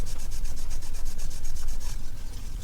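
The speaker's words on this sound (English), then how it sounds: "with a sanding stick I'm just going to remove the worst." A sanding stick scrubs injection mould points off plastic parts of an Airfix Handley Page Hampden model kit, making steady, rhythmic back-and-forth rasping strokes that are close and continuous, with no talking.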